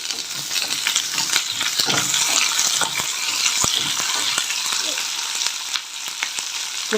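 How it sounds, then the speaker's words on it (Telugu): Sliced onions frying in a pan for a spinach and onion curry, a steady loud sizzle with scattered stirring clicks and scrapes throughout, no talking. "రెండు ఆనియన్స్ సన్నగా కట్ చేసి పెట్టుకున్నాం ఆనియన్స్ రెండు ఆనియన్స్ వేస్తున్నాం"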